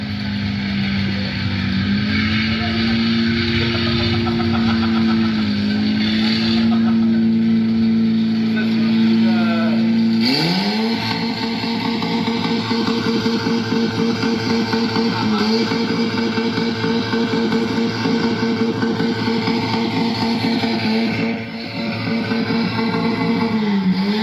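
The engine of an old, worn Peugeot 205 drones steadily and fairly loud, its pitch shifting up as it revs partway through, while people talk over it.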